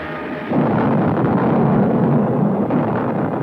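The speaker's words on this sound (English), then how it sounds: "remember that missile he talked about? It just launched." A cartoon missile launch from a 1966 Incredible Hulk animation, a loud roaring blast that kicks in suddenly and sustains as a rumbling whoosh.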